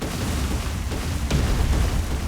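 A grenade blast in the Roblox alien-survival shooter DARKDIVERS, a dense booming burst over a constant low rumble of game noise, with a couple of sharper cracks mid-clip.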